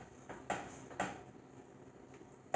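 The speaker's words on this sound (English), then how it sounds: "Okay, just stir it." A spoon clinks against a bowl while vanilla is stirred into a no-bake cookie mixture, giving a few sharp, separate taps spaced about half a second apart, then a pause and one final clink, all close and fairly quiet.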